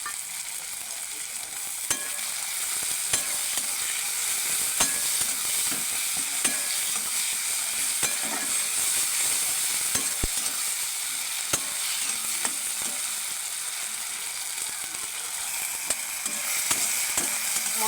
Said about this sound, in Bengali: মশলাটা ভালো করে ভাজা ভাজা হয়ে গেছে